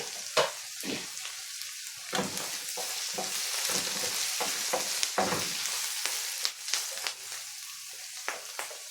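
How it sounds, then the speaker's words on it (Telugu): Onion pieces frying in a pan while being stirred now and then for a red amaranth (thotakura) fry, with a steady sizzle broken by repeated scraping and clacking spoon strokes, close and fairly loud. "మధ్య మధ్యలో కలిపెట్టుకుంటా ఉల్లిపాయ ముక్కల్ని వేయించుకున్నాము"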